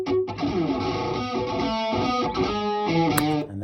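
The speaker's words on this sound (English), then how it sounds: "And that is the Vox AC15 with the Telly." Distorted Fender Telecaster electric guitar played through a Vox AC15 amp, miked with an SM57 and a Royer 121, chugging chords and riffs loud and steady for several seconds, with no voices.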